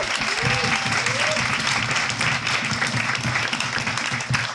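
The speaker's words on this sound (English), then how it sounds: "Round of applause for both of" A comedy show audience gives a steady round of applause for two performers, dense clapping filling the whole stretch with a few voices murmuring and whooping underneath.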